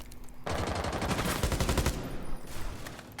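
Rapid automatic gunfire in Rainbow Six Siege, a dense burst of loud, closely spaced shots lasting over a second, then trailing off into scattered echoes with no talking.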